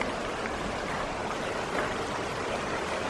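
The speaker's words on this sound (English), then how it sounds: "got quite a bit of water in it. Nice flow" A New Mexico creek carrying plenty of water rushes steadily past, a dense, even wash of flowing water heard close with no voices.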